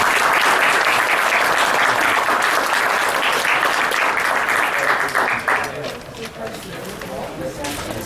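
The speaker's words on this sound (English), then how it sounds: "Let's go ahead and give Andrew a round of applause." An audience at a trails conference in San Antonio applauds a speaker named Andrew, a dense burst of clapping that holds strong for several seconds, then thins and tapers off.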